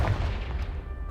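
A Confringo fire spell bursting in Hogwarts Legacy, a single short booming blast that rumbles and fades within a second.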